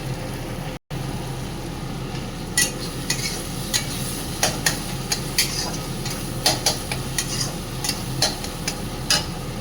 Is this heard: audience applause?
no